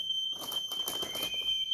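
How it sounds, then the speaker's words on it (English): A household smoke alarm, likely set off by an oven, sounds a steady high-pitched electronic tone running almost unbroken for nearly two seconds, close and fairly loud, with faint background noise and rustling beneath it. "Sorry, smoke alarm!"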